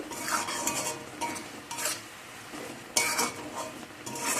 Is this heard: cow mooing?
no